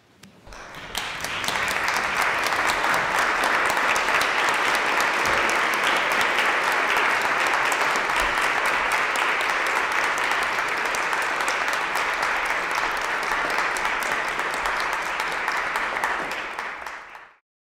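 Audience at the Order of Islington 2010 investiture breaks into sustained applause for award recipients, a loud, dense wash of clapping that swells in within a second, holds steady for about fifteen seconds, then tapers off quickly.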